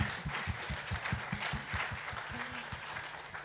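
An audience at a women's business panel event applauds its panelists with a steady, dense wash of clapping, backed by a faint rhythmic low pulse.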